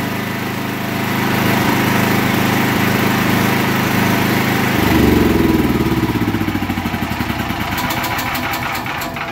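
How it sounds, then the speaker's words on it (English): A Vyking generator engine runs steadily and loudly up close. Its pitch and rumble shift partway through as the load or speed changes, with a pulsing drone, and no one talks. "I've never seen a generator in my life that's got a remote control."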